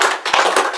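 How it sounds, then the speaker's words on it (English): A small group of visitors at the Mystery Spot in St. Ignace, Michigan, gives a volunteer a short burst of applause. The crisp, close hand claps last under a second. "Let's give him a big round of applause."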